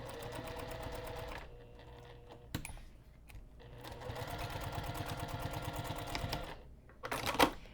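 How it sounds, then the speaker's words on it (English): A sewing machine stitching along a backpack edge gives a quiet, close, rapid mechanical chatter in two runs, with a pause and handling clicks between them. "as I finish sewing that third edge, I'm going to transition into 1/4 inch"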